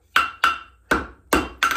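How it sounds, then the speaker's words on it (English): Five sharp metallic hammer blows, struck with the hammer heel onto a horseshoe at the far point of an anvil horn while fullering. The ringing strikes are spaced unevenly, close and loud, with no talking. "Go back to that same spot on your fullering using the heel of your hammer. Drive down twice."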